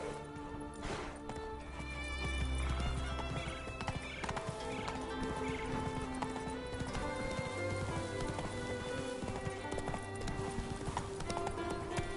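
Roach the horse gallops in The Witcher video game on PS5, a steady rhythmic clip-clop of hooves running throughout, with a whinny and faint rain-like patter over a layer of game music.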